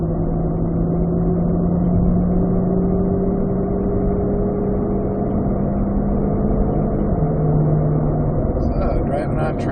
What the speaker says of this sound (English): driving on track here at Road Atlanta. Initial impressions of the new Corvette C8